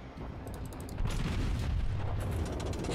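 Heavy naval guns of a Japanese cruiser (Aoba) firing in World of Warships, deep booming blasts with rumbling tails layered over continuous battle noise, one stronger volley hitting around the middle, no talk.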